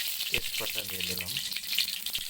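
A bay leaf crackles and sizzles in hot oil for chicken curry, a steady close frying hiss with a brief voice speaking partway through.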